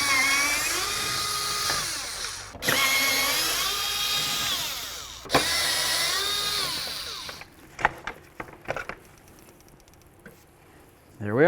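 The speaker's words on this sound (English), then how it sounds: "we're going to remove those Torx bits that I was telling you about, the Torx headed bolts" A power drill backs out Torx-headed bolts from the door of a 2008-2016 Chrysler Town & Country, three whirring runs with rising and falling pitch, followed by clinks and clatter of parts being handled.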